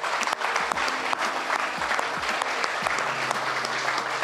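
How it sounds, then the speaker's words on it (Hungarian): An audience at a sports awards event applauds steadily, dense clapping that holds at one level throughout with no voices above it. "kiprovokáljak mindenkinek egy óriási tapsot most itt"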